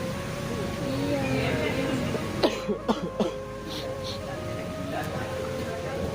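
A few sharp coughs in a quick cluster, close and fairly loud, rising over a steady background hum.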